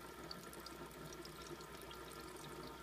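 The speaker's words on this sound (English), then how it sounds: "So you pour your water in here." Water poured into the reservoir of a Bunn coffeemaker, a soft steady splashing trickle that runs evenly and fairly quietly throughout.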